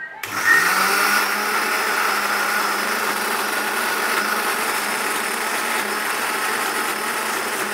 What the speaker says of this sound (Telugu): అదంతా వేసుకొని మిక్సీ పట్టుకోవడమే